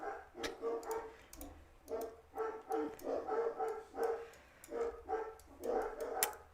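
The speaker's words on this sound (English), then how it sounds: "And the dogs are barking." Dogs bark in a steady run of repeated barks, fairly faint and some distance off, with no talk over them.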